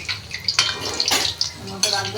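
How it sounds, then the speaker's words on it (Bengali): Palm fritters (taler bora) being turned in hot oil in a wok: metal spatula scrapes and clinks against the pan in quick bursts over a soft, bubbling fry, close and fairly loud. "বড়াটা ভালো করে উল্টে পাল্টে ভেজে নিই"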